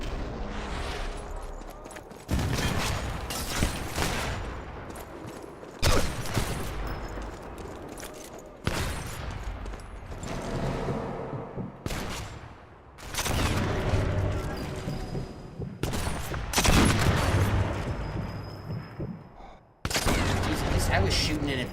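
Repeated bursts of gunfire from the sniper game Sniper Elite 4, loud and broadband, coming in several heavy volleys separated by brief gaps, with a voice talking over parts of it.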